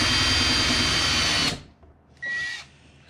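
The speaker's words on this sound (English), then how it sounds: "Wow, I am drilling way too far." A power drill whines loudly and steadily for about a second and a half while driving into wood, then cuts off; a second shorter burst of drilling follows after a pause.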